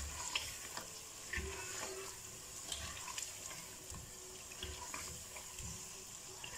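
Chicken with ginger and masala frying in oil in a pan, a low steady crackle and sizzle with faint stirring scrapes, quiet and even throughout.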